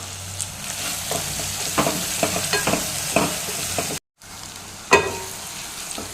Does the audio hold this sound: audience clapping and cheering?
no